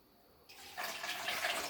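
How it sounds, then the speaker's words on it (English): A homemade rose-scented mixture is poured into a Dollar Tree bottle, a soft liquid stream that starts quietly, then swells into a steady, brighter gurgling fill, close and alone. "pouring it into our bottle"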